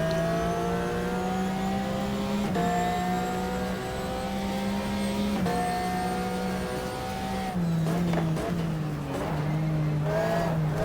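A race car in GTR 2 at full throttle, its engine holding a steady high-pitched drone that climbs through the gears with brief dips at each shift, loud and up close, with faint tire noise near the end.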